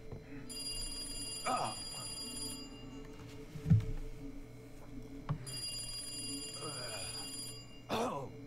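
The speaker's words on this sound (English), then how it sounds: "Answer the phone, bro." Telephone ringing in a film scene, repeated electronic ring bursts at a steady moderate level, interrupted by short pauses with faint voices and low thuds between rings.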